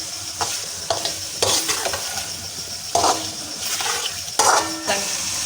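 Steady sizzling of kidneys frying with garlic and onion in a pan, with several sharp stirring scrapes and clinks at irregular intervals, close and fairly loud.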